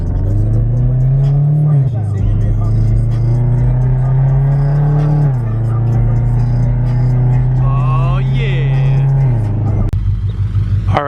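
A 2013 Scion FR-S widebody's engine revs loudly and close, climbing and holding in three long surges with brief dips between, then cutting off near the end.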